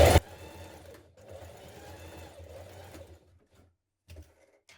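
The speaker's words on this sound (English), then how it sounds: "lay each piece on top of each other like this so that it's flat, and then sew it down" A sewing machine stitching elastic down on children's dungarees runs in a steady close whirring burst for about three seconds, then stops, followed by a brief short run near the end.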